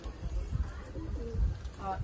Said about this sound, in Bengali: দারুণ পায়রা দাদা।